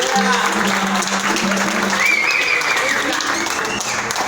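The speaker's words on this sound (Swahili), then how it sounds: "Wapi makofi?" Audience applause from a crowd at a gathering of creatives, a dense steady patter of clapping throughout with a voice speaking partway and a brief whistle or cheer near the middle.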